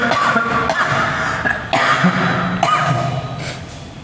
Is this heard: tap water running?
no